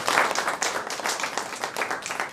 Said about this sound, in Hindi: मैं चाहूँगा कि एक जोरदार तालियां हो जाए उदय प्रकाश जी